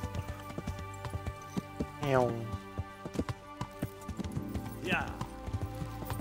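Horse hoofbeats clip-clop steadily while riding in the medieval video game Kingdom Come: Deliverance, with a couple of rising whinny-like sweeps and a brief spoken word over the game sound.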